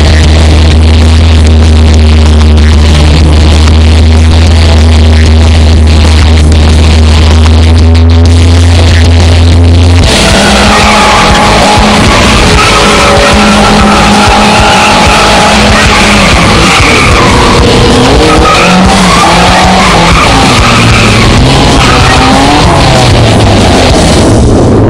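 Replica Ford Mustang being driven, with a loud, close engine hum and rumble under steady road noise, shifting to a rougher, busier drone with changing revs partway through.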